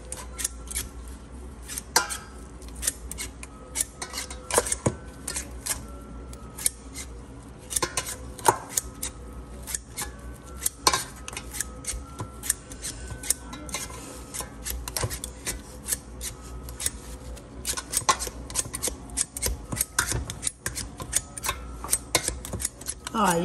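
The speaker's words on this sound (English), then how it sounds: "Okay guys, I'm about to mash the potato." Potatoes being mashed in a bowl, a long run of irregular scraping, squishing and clinking taps of the masher against the bowl, close and fairly clear, with occasional talking over it.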